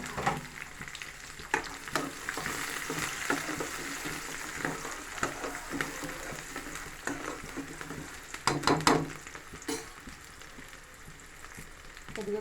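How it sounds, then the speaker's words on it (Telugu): Onion and green chili with peanuts fry in a pan for okra curry, a steady sizzle with scattered stirring clatters and louder scraping bursts near the end. "ఉల్లిపాయ, పచ్చిమిరపకాయ వేగిందండి."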